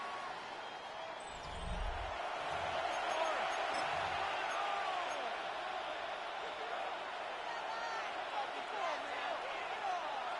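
Stadium crowd noise from an EA Sports NFL football video game rises as a broad, steady roar during the fourth quarter, with a few low thumps early on and a constant din filling the background.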